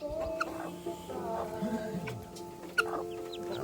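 Newly hatched aseel x Rhode Island chicks peeping in shrill, repeated chirps close by, with clucking adult chickens mixed in and occasional background voices.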